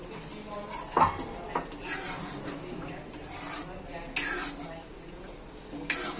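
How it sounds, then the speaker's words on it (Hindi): Chicken kofte meatballs are stirred into a masala in a pan, giving a soft sizzle under scraping spatula strokes, with a few sharp clinks of metal against the pan. "अभी हम इस मसाले में इस कोफ्ते को अच्छे से भूनेंगे।"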